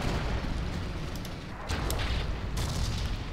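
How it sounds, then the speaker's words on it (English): Artillery fire from the World War II multiplayer game Forgotten Hope 2, set around Mersa Matruh and Tobruk: a steady, dense rumble of distant booms and blasts, with sharper bursts breaking through near the middle and end. "Artillery doesn't help either."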